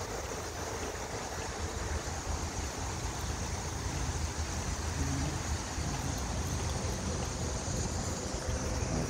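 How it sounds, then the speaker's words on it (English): Creek water flows steadily beside a roadside guardrail in Linthicum Heights, Maryland, a continuous broadband rush with some wind noise across the microphone and no talking. "more water in the creek."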